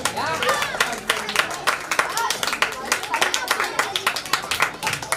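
Audience applauding children at a Dr. Ambedkar Jayanti celebration prize giving for a drawing competition, a dense burst of clapping with a voice speaking over it, moderately loud throughout.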